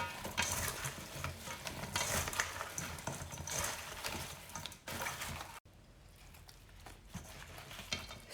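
A spoon stirs and scrapes through sauce coating sliced potatoes in a dish for scalloped potatoes, a soft wet churning with brief clatters, then a sudden pause and quieter mixing, faint and close without speech.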